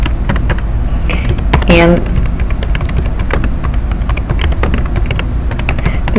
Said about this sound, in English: you can just type the website in right here